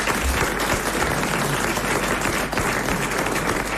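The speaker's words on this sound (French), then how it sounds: "Mais soyez néanmoins applaudis et chaleureusement remerciés." A French television studio audience applauds in 2001, with loud, dense, sustained clapping from a large crowd that fills the whole stretch without pause.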